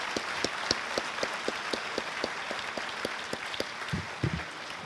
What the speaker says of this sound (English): I think we owe him a big round of applause.